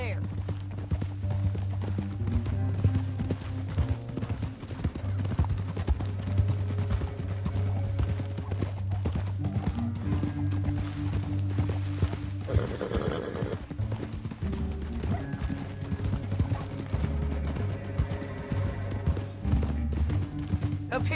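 Horse hooves clatter in a steady clip-clop rhythm through an open canyon in Red Dead Redemption 2, running under continuous music and game dialogue, with a brief whinny partway through.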